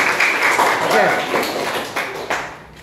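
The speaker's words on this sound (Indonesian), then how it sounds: "Beri tepuk tangan sekali lagi kepada ketiganya" An audience applauds three debate participants with a wash of clapping that swells early and then gradually fades, with a voice speaking over the opening.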